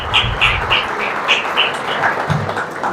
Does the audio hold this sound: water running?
no